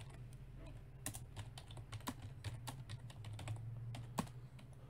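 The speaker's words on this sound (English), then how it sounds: "I hope you're enjoying my lovely typing" Computer keyboard typing, a quiet irregular patter of key clicks over a low steady hum, fairly close with no talking.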